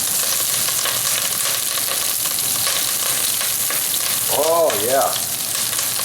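Kale tipped all at once into a pan of cooked garlic and turmeric sets off a loud, steady sizzle and crackle of frying, with a brief voice speaking over it near the end.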